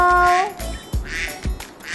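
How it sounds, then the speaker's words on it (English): A duck quacks in a short series of three or four loud, nasal quacks close up, used in a children's English lesson on animal sounds. "This is a duck."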